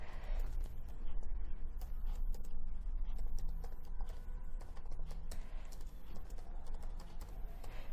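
Steady keyboard typing as Python code is entered on a computer, a dense run of quick key clicks continuing for the whole stretch, close and fairly soft with no talking.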